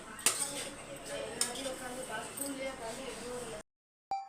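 Fried rice stirred in a pan for chicken fried rice, with a steady light scraping and occasional clinks of a utensil against metal over several seconds, close by and moderate, ending abruptly.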